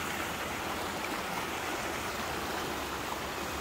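Rushing floodwater of a swollen river, a dense continuous roar of churning water, loud and steady throughout with no voices.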